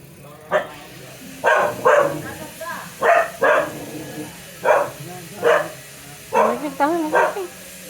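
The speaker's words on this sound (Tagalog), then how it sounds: "May aso sa labas eh." A dog barks repeatedly in short separate yaps, some whiny and high, spaced irregularly with brief quiet gaps between.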